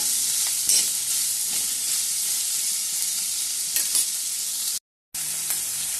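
Onions fry with ginger, garlic and green chillies in a hot pan, a loud constant sizzle with a few scraping stirs, briefly cutting out to silence for a moment.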